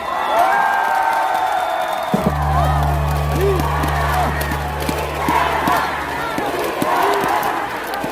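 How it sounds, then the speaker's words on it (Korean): A large crowd at a rainy outdoor festival cheers and applauds as a singer takes the stage, a loud, steady roar of voices and clapping with a low musical drone entering partway through. "큰 박수로 맞이해보겠습니다"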